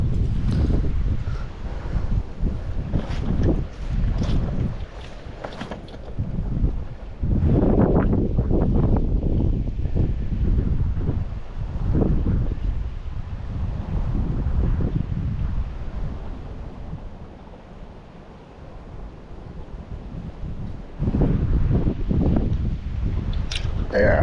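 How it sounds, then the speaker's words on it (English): Gusty wind buffets the microphone beside Clear Shade Creek, a trout stream in Pennsylvania, rising and falling in loud low rumbling surges with short lulls throughout. "wind is not going to be easy."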